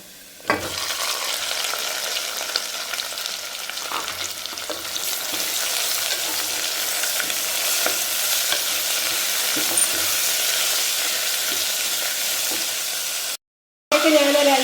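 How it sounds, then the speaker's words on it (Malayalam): Finely chopped onions sauté in a pan for chicken mappas, a loud, steady sizzle close up with occasional scraping stirs, continuing without talk until a short drop-out near the end. "ഒരു മൂന്ന് സവാള ചെറുതായിട്ട് അരിഞ്ഞു വെച്ചിട്ടുണ്ട് ഞാൻ അതുകൂടെ ഇതിലേക്ക് ചേർത്ത് കൊടുക്കുകയാണ്"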